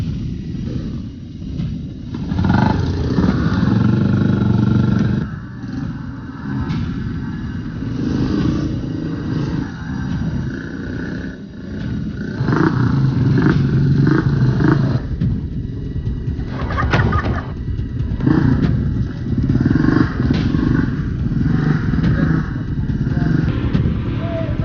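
A motorcycle taxi engine drones and revs along a rough rainforest track on Indonesian back roads, rising and falling in loudness over long stretches, with birds calling faintly in the background.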